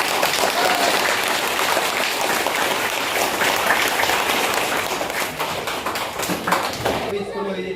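Students clapping for their teacher in a classroom, a sustained round of dense, lively applause from a group nearby that fades slightly toward the end.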